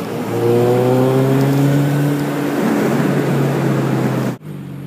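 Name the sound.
engine noise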